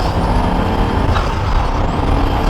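An 18-wheeler truck sits close by with a loud, continuous hiss of air brakes over its engine rumble, no voices.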